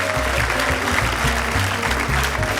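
Steady audience applause greets a team taking the stage at a comedy league show, dense clapping running throughout, with low musical tones underneath.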